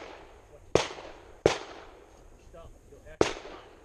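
Three sharp handgun shots fired at a shooting range, close and loud, each with a short decaying echo, the last after a longer pause.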